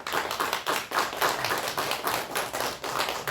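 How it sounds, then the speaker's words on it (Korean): A church congregation at a Sunday service claps to welcome visiting coworkers, a short burst of mixed hand claps at moderate level with no talking. "박수로 환영하겠습니다."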